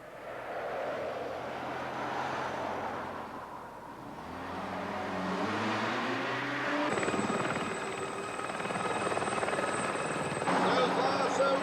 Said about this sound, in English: could we borrow the helicopter?